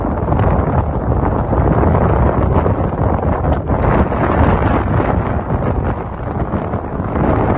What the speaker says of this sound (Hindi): ये जो आपको इतनी ज़्यादा आवाज़ आ रही है, ये बहुत तेज़ हवा की है, बहुत ज़्यादा तेज़ हवा चल रही है।